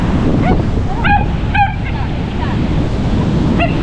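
Sea waves wash steadily onto a shore on a morning beach, a continuous broad rush with a few short high calls and faint voices over it.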